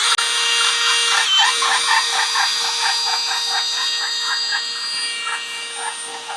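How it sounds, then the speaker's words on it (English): A drill bit boring into a rubber bushing, a steady grinding whir with a rhythmic pulsing rasp as the bit bites in, close and fairly loud throughout. "So what I do is I just start the drill bit"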